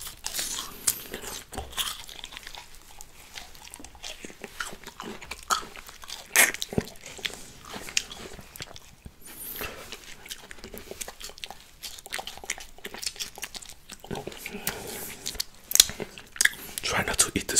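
Crunchy bites and chewing of Thai mixed pickled fruits, close and crisp, a steady run of crunches and mouth noises with occasional louder snaps throughout.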